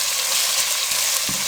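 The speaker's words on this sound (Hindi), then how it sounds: "2 से 3 मिनट अब इन दोनों चीज़ों को हम अच्छे से फ्राई कर लेंगे" Chopped tomato and green chillies fry in a pan over medium flame, giving a dense, steady hiss close by, with a couple of soft stirring bumps and no talk.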